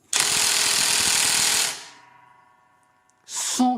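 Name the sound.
Onevan AliExpress brushless 20V impact wrench screwing at max power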